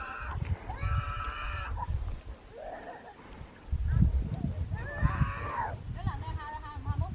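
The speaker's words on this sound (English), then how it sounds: "This kid has been screaming for like over 20 minutes." A child screams at intervals in the open air beside a parking lot on Mount Washington, the high wailing cries rising in bursts over background chatter and wind noise, with people talking nearby.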